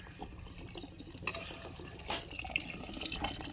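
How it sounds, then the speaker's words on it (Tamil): A small amount of water is poured into potato masala cooking in a pan, giving a brief splashing, trickling pour with faint sizzling and stirring, close up and without talk. "கொஞ்சமாக தண்ணி ஊற்றிக்கலாம்."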